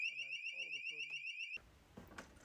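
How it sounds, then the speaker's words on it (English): A C-TEC fire alarm panel sounds after a KRC call point is tested, giving a loud steady two-tone electronic alarm with a faint voice underneath before cutting off abruptly into quiet room noise and handling clatter. "When the alarm was blaring"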